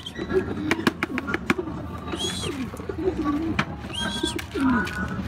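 Soft, low pigeon coos repeat over an outdoor background, with scattered clicks and a few higher bird chirps mixed in.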